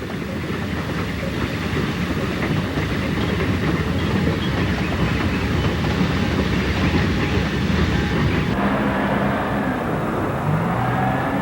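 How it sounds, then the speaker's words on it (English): ET&WNC Tweetsie narrow-gauge train rolling across a covered deck bridge west of Hampton, a steady loud rumble with rhythmic clickety-clack from the wheels, continuous and close, with no voices. "The train has passed through Tunnel 1 and emerges onto the covered deck bridge west of Hampton."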